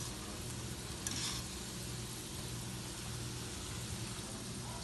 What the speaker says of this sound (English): I'm deep frying it